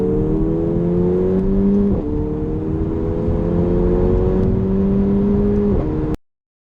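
A Mercedes A45 accelerates hard, its engine note climbing steadily in pitch, then dropping at two quick gear changes before rising again and cutting off abruptly. The loud, droning tone dominates throughout.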